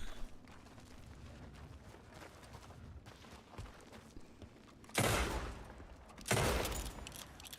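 Video game gunfire in two sharp loud bursts near the end, following a stretch of quiet ambient rustling and movement.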